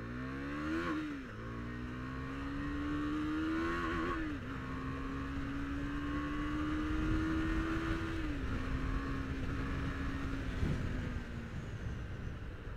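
A KTM 390 motorcycle ridden fast drones loud and close, its engine note climbing steadily through the gears with short dips at each shift, wind rush underneath.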